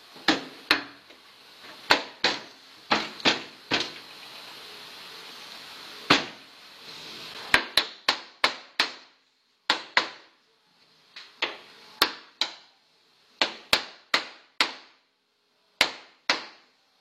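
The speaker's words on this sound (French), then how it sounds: "Là j'ai encore des petites conneries, ça faut que je les fasse au marteau." Sharp metallic hammer blows strike the sheet metal door panel of a Toyota HJ61 in irregular bursts, some rapid pairs and clusters, with brief pauses between, close and loud.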